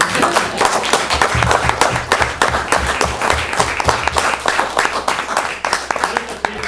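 Audience applause at a town selectmen meeting, a dense run of steady hand clapping that fills the room for several seconds, with voices talking faintly underneath.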